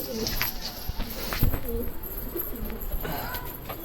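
An injured female pigeon, now recovering, coos softly in a few low, rounded calls over steady background noise, with no talking.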